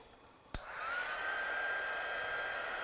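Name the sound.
hair dryer drying paint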